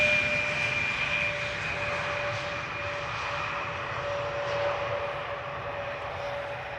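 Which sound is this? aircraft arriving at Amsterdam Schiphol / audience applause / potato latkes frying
aircraft arriving at Amsterdam Schiphol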